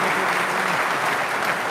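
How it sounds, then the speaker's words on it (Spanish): Church congregation claps in praise: steady, dense applause, loud and close, fills the short stretch without pause. "bata las palmas para Dios y que Dios les bendiga"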